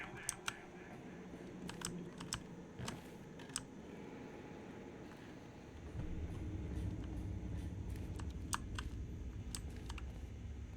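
Typewriter keys clack in an office in Portal 2, quick irregular strikes in bursts over a steady machine-like background drone that grows louder partway through.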